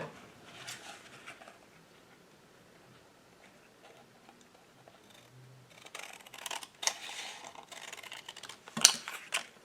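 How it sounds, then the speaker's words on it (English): Scissors cut through craft paper along a score line, producing a quiet run of crisp snips and clicks that cluster toward the end of the clip. "I have to cut it there on that score line to make it fit. Scissors."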